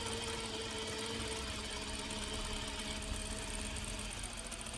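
A sewing machine stitches a seam along fabric, a steady continuous mechanical whir and hum that holds unchanged throughout without pauses.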